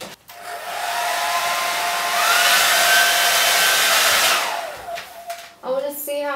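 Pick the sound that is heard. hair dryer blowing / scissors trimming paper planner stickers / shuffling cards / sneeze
hair dryer blowing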